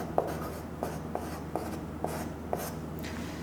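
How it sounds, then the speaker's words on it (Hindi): Chalk or marker writing on a board during a maths lesson, a series of short scratchy strokes with small taps roughly every half second, close and clear with no talking. "मैं फिर से कुछ चीज को लिखता हूं।"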